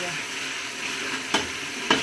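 Garlic and ginger fry in hot oil for daal mash, giving a steady close sizzle with two sharp scraping stirs near the end.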